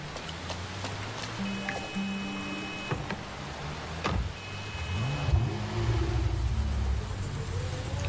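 Car engine revving in the open-world video game Neverness to Everness, a steady motor drone with rising and falling pitch sweeps, moderately loud with a few faint tonal game effects layered over it.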